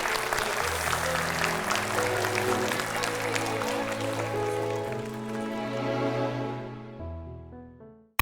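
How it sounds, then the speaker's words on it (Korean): A studio audience on a talk show breaks into sustained, dense applause as a sustained musical sting rises beneath it, then the clapping fades away and the music rings out alone before a sharp cutoff. "우리 잘하라고 응원의 박수 한번"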